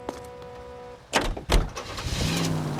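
A car in the video game L.A. Noire pulls away, with a sharp door-like thud, a second knock, then a rising engine and road rumble, close and moderately loud with no voices.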